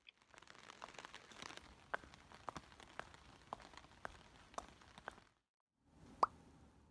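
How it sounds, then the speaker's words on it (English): Scattered drops plink and patter sharply on a nearby surface in an irregular rhythm, quiet between hits, briefly falling silent before a few more land. "It was raining heavily."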